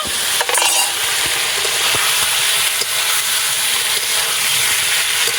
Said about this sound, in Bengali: মশলা থেকে আমার তেল ছেড়েছে এবার এই আলুটাকে দিয়ে একটু ভাজ হালকা ভাজবো